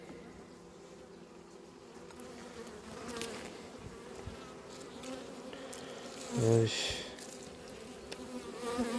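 Honeybees buzz steadily around an open hive during an inspection, a faint continuous drone with a louder, closer bee passing by midway, while a person speaks briefly nearby.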